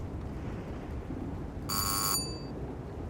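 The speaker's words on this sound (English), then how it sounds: "I was pried from my sleep by the shrill cry of the buzzer." A shrill electronic buzzer sounds once for about half a second against a steady background of rain on a tin roof, loud and close, then cuts off.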